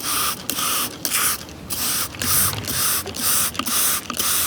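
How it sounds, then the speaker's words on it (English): A spray bottle mists live moss in a series of about ten short hissing bursts, evenly paced and close up, with no talking. "Let's spray this off a little bit."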